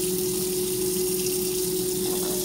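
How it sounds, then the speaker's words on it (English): Water pours steadily into a scorched pan, a dense, continuous splashing rush with a steady tonal hum, close and fairly loud, with no talking. "So I pour some water into the pan."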